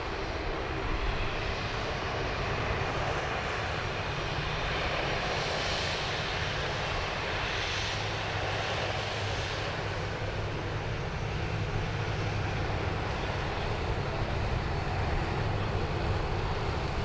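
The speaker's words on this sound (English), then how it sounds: "The Qantas 737 in the ochre livery. Nice and close to us here at the mound." A Qantas Boeing 737 jet passes close at Sydney Airport, a loud, steady engine roar that fills the whole stretch without letup.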